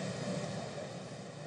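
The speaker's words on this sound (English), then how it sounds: "the airplane flying overhead" A steady, fairly faint engine drone from an airplane overhead during a SpaceX Dragon capsule splashdown at sea, continuous and even with no talk.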